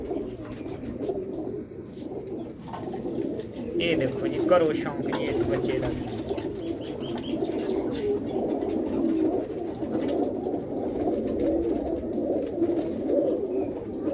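Pigeons cooing on a rooftop, soft repeated coos running under someone talking close by.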